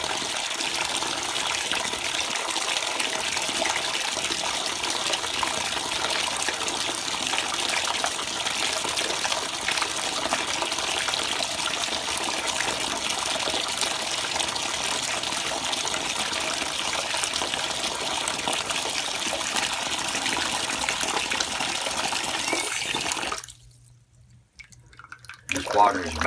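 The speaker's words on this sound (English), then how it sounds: "pull the plug and see how she drains" Hot water, around 120 degrees, drains from a previously clogged bathtub after the plug is pulled, giving a steady, loud broadband rush and gurgle that runs close and unbroken before cutting off abruptly near the end.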